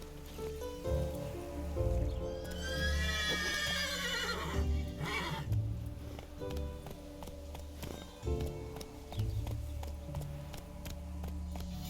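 A horse whinnies loudly in The Witcher 3, one rising and falling neigh over an ongoing game soundtrack of low droning music and ambient effects.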